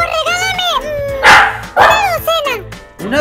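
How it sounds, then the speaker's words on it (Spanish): Several dogs bark in a Minecraft game, a run of yips and whimpering barks rising and falling in pitch, loud and close, overlapping one another. "cuidado que por ahí hay un montón de perros"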